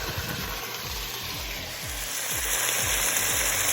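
Pork browning for Jamaican brown stew in a pot, a steady loud sizzle with occasional bubbling pops and soft rhythmic scraping underneath, with no talking.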